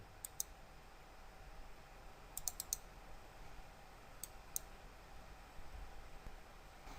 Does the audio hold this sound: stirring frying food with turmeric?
no